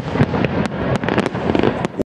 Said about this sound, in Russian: в Москве прозвучал салют в честь освобожденного Киева